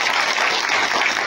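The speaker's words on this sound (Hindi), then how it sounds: "इतनी तेज तालियों की गड़गड़ाहट की आवाज हो" Applause from an audience at a stage event in India, a dense steady clapping that stays loud and uniform throughout the short stretch, with no voices over it.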